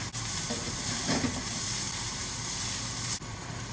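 Ginger and garlic sizzle in hot oil in a wok, a steady broadband hiss that runs close and loud without a break for the whole stretch, with no talking over it.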